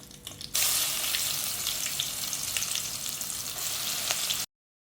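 Crushed onion and garlic drop into a hot pan for a snake gourd and prawn thoran and burst into a loud, steady sizzle after a brief quiet start, then cut off abruptly.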